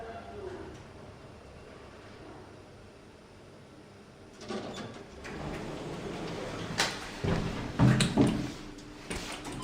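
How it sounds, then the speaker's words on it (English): Budget lift doors in a North Acton building slide shut after a quiet hum. A rumbling slide builds up, then a few thuds and knocks follow, all moderately close. "Doors closing."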